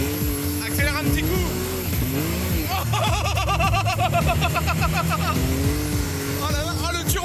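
A small RC buggy's electric motor whines and revs in rising and falling sweeps, with a higher-pitched burst in the middle, while people talk and exclaim excitedly over it throughout.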